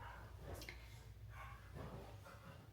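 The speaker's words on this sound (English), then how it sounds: "the dog is driving me crazy" A dog in the cab of a 2026 Volvo 860 truck gives a few short, soft yips and whimpers over a steady low engine drone, with no talking.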